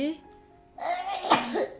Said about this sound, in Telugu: మరి ఇప్పుడు ఏమొచ్చింది? దగ్గు వచ్చింది.